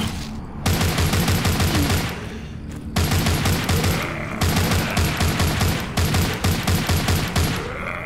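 Rifle fire in the mobile game The Walking Zombie 2: loud, close, rapid automatic bursts with an even rhythm, separated by a few short pauses, with no talking.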